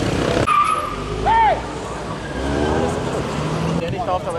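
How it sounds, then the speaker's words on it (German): A Mercedes turbo car driving past at a supercar meet in Munich, engine roaring loudly with a brief tire squeal, set against street noise while people talk nearby. "Sehr geil, das Mercedes Turbo hier."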